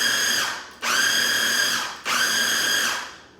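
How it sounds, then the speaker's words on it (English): A food processor whirs through three short pulses of a sun-dried tomato and basil tapenade. Each pulse is a loud, close, whining motor burst of about a second, with brief gaps between them. "One quick pulse like that and your sauce is done."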